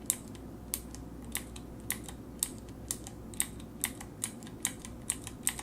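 Cherry MX Blue mechanical keyboard switches give a run of about a dozen crisp, bright clicks. The steady typing rhythm sounds close, with no voices.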